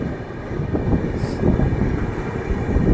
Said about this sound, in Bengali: এই ঝাড়গ্রাম স্টেশন ছেড়ে বেরিয়ে যাচ্ছে, ট্রেন যথারীতি স্পিড নিয়েও নিয়েছে